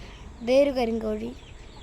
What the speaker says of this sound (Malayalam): ഇതൊരു കരിങ്കോഴി പൂവൻ. ഇതൊരു പൂവനാണ്. ഇതൊരു പെടയാണ് കരിങ്കോഴിയുടെ.